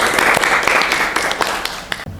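A studio audience breaks into applause during a podcast chat about a schoolgirl silat athlete, a dense wash of clapping that runs steadily for about two seconds before cutting off abruptly.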